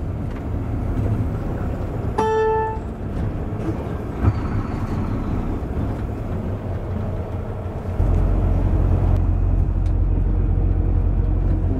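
A Mercedes 300D turbo diesel car drives along with a steady low engine rumble and road noise, loud and close, with a brief tonal horn-like blip and the drone swelling later.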